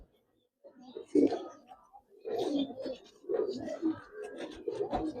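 Giribaz coloring pangkhi pigeons coo softly in bursts under a man's ongoing speech, with close, low murmuring calls spread across the moment.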